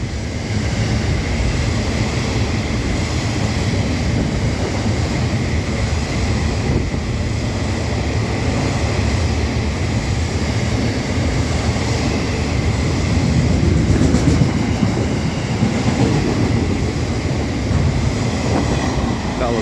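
An intermodal freight train rumbles past at close range in Morwell, Victoria, Australia, a steady loud roar of rolling wagons and clattering wheels with occasional faint squeals, lasting the whole stretch without talk.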